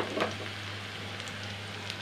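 Onions fry in oil in a pan with a soft, steady sizzle and a low hum underneath, plus a brief stir near the start, with no talking.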